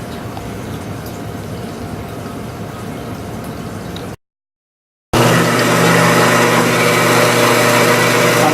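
A saw cuts a piece of 4140 steel for a spacer about 1/4 inch thick: a steady broadband machine drone, a brief silent break, then a louder, harsher sustained grinding whine that holds to the end.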